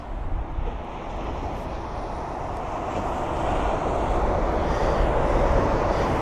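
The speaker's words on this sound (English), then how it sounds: "Just about can hear the engine startup of the obviously the other engine on board the Turkish" Distant jet engine of a Turkish Airlines Boeing 777 spooling up at London Heathrow, a steady broadband roar that swells slightly over several seconds.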